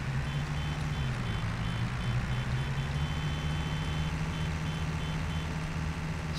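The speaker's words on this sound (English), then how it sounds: "Give him a few beeps and I'll head round in front." Tractor in Farming Simulator 22 giving a few horn beeps, a faint repeated tone riding over a loud, steady engine drone.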